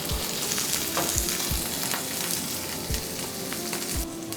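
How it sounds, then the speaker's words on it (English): Potato pieces sautéing in a hot pan with a little salt, a continuous bright sizzle broken by occasional scrapes and knocks of stirring, close and loud with no voices. "why are we sauteing the potatoes?"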